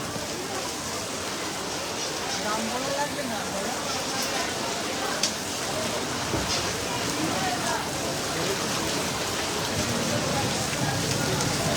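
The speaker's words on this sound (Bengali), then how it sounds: "প্রচুর বৃষ্টি হয়েছে" Heavy rain falls at a cattle market, giving a steady, dense hiss of drops on surfaces throughout, with people talking underneath.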